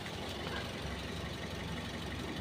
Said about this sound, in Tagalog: Ayan, naki-start na yung engine.